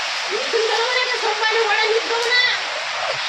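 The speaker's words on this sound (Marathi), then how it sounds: "जोरजोऱ्यानं पाणी यायला लागलं बघा मी तर एवढ्या जोऱ्यात पाऊस सुरू आहे" Heavy monsoon rainwater rushing strongly into a village house, a loud steady wash of flowing water, with a voice speaking over it throughout.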